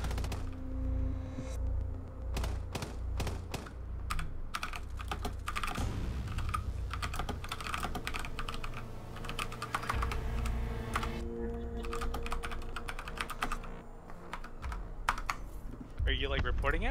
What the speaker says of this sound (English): Or what are you typing about?